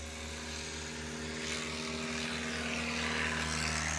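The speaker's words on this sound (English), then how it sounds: "We'll see what he does for his second takeoff for the day." A STOL airplane at Ontario Municipal Airport during a STOL competition, its propeller engine a steady droning hum with strong low tones that swells slightly as the takeoff run builds, heard alone with no talk.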